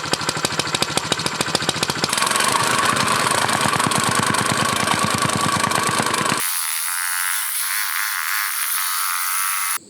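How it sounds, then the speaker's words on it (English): Small gas engine of a trench tamper, pull-started then running with a rapid pounding thump that roughens and climbs, then shifts abruptly to a steady high-pitched whine near the mic with no talk. "Let's get it fired up and see if we can tamp this trench down."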